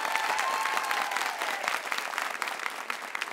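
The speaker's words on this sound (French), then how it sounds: "Applaudissements," Studio audience applauding on a French television talk show, a dense steady clatter of many hands filling the whole stretch at moderate level, with a thin tone briefly over it early on.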